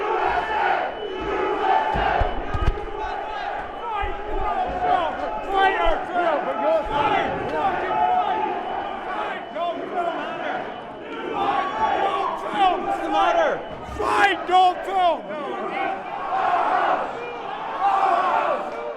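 A dense crowd of protesters shouts and yells inside the Capitol crypt, a continuous loud roar of overlapping voices with occasional louder cries rising above the din.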